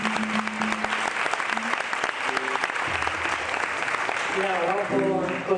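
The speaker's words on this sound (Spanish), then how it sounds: "Venga, un aplauso para él" Audience applause for a composer at a live music show, loud sustained clapping from a crowd, with a voice speaking over it and brief musical tones near the end.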